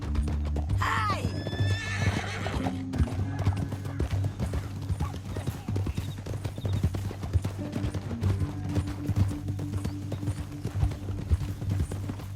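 Horses in Red Dead Redemption 2 gallop at a fast, even beat, and a loud whinny cuts in near the start before the hoofbeats carry on with only faint voices around them.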